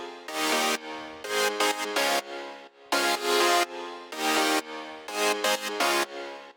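Bright synthesizer chords from an EDM song play loud and alone in choppy stabs, bursts of rich sustained harmony cut by short gaps in a repeating rhythmic pattern.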